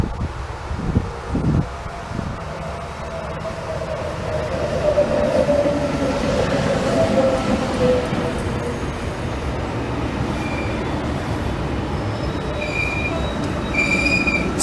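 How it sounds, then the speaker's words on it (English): A Sydney VSET passenger train on the Mount Victoria line arriving at a station platform, its rumble building and wheels squealing high toward the end, with someone talking early on. "now we have a Sydney bound, Mount Victoria bound VSET now arriving into platform number 2"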